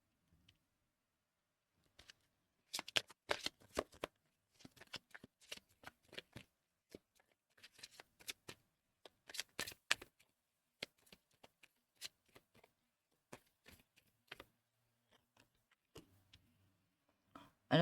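Tarot-style cards shuffled by hand for a card reading, with repeated riffles and soft slaps in irregular bursts, close and clear with no talk.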